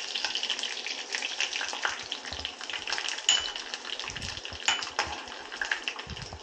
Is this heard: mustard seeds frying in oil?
yes